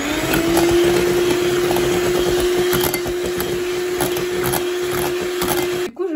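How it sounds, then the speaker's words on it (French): An electric hand mixer beats pancake batter at low speed, a steady loud motor hum with a constant tone and rattling whisk, running several seconds before switching off. "on va remélanger avec le batteur à faible vitesse"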